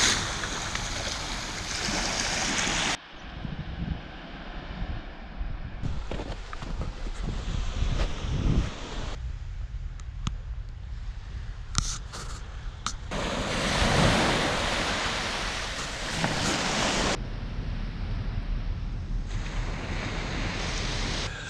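Sea waves wash onto Kingsgate beach on the chalk Kent coast near Kingsgate Castle, with steady surf, heavy wind buffeting the microphone and abrupt changes in level.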